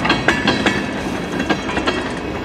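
CN local freight train rolling past close by, steady rumbling with repeated rhythmic clickety-clack of wheels over rail joints, no talk.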